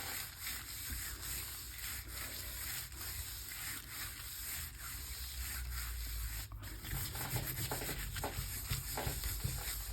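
Paper is rubbed firmly by hand onto a painted gelli plate, a continuous close scratchy rubbing and sanding texture that holds steady throughout with no talking.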